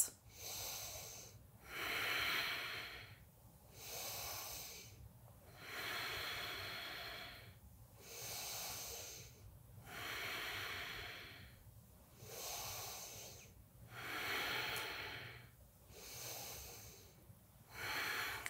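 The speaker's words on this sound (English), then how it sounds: "Take five breaths" Slow, deep breathing held in a yoga squat, about five long breath cycles in a steady rhythm, airy and close.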